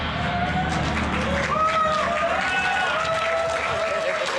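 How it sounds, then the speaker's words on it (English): Crowd at a hackathon kickoff event cheers and applauds in a steady, dense roar, with whoops and shouts rising above the clapping throughout. "One last cheer for Team Black"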